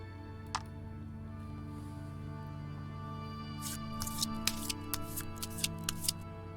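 Virtual playing cards are shuffled in the video game Voice of Cards: The Beasts of Burden, producing a quick run of crisp, rhythmic flicking clicks over a soft music bed, with one faint click near the start.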